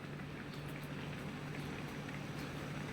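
A pot of ginisang CB, a sautéed Filipino dish, simmering on the stove, giving off a soft, steady bubbling and gentle sizzle, fairly quiet and continuous throughout, with no talking.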